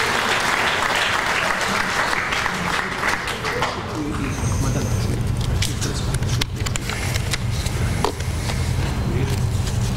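An audience applauds at a commemorative ceremony for a wartime brigade anniversary in Konjic, with sustained dense clapping from a large crowd throughout and the texture shifting partway as the clapping thins and continues.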